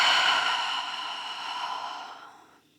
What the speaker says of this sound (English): Big audible exhale out